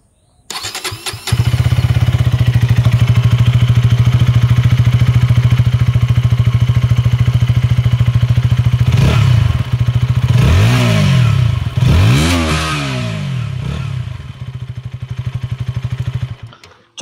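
A KTM Duke 160 motorcycle cranks and fires up, settling into a loud, steady close idle before two or three sharp throttle revs swell and drop, then the engine cuts off.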